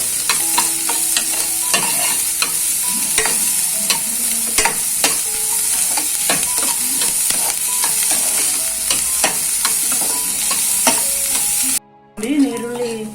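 Chopped onion frying in hot oil in a pan, a steady loud sizzle with repeated scraping stirs of a spoon against the metal, continuing alone without talk, briefly cut off near the end before resuming.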